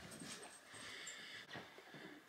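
Dogs whimpering and panting close by indoors, a steady run of soft whines and breathy pants with a few sharper yips, continuous for a couple of seconds.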